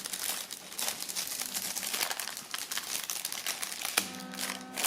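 Plastic protective wrapping over the strings of a new 12-string guitar being cut and pulled away, a dense run of close crinkling, snipping and rustling with a brief sharper crackle near the end.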